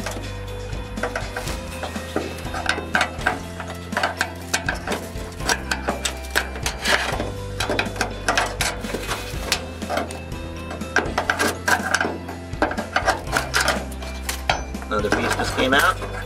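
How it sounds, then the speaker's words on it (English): Metal bit scraping and clattering inside the drain of a Samsung WE357A7W front-loading washer that won't drain, with dense irregular clinks and rattles of debris coming loose over a steady low hum, close and busy throughout. "use a bit to kind of, not to destroy anything, but just to reach in there and try to scrape some of this stuff out"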